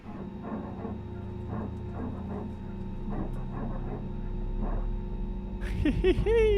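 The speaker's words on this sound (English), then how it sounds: "Love the little dog bark." Dog barks in Microsoft Flight Simulator while an A320neo is prepared for departure at Memmingen, a short burst of yips near the end over a steady aircraft cabin hum, preceded by faint muffled sounds.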